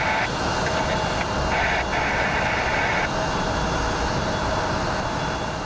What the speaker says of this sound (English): This jet inbound, I think, is this the Phenom?